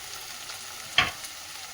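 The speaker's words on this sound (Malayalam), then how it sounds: "ഉള്ളി ഇനി ഒന്ന് ബ്രൗൺ നിറമാകുന്നതും വരെ നമുക്കൊന്ന് വെയിറ്റ് ചെയ്യാം." Onions browning in a pan for mushroom masala make a faint, steady frying hiss, broken once by a single sharp pop or clink.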